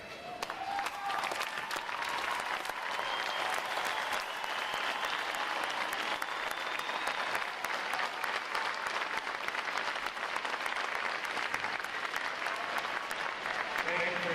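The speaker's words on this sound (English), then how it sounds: "Will all our veterans please stand so we can give you a round of applause?" A large audience applauds veterans at a U.S. Navy Recruit Training Command boot camp graduation ceremony. The clapping is dense and steady and lasts the whole stretch without fading.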